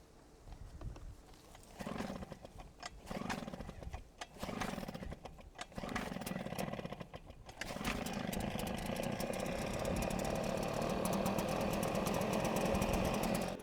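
A gas backpack leaf blower, set with throttle and choke on after priming, is pulled several times with sputtering bursts before the engine catches and settles into a steady, loud, buzzing idle.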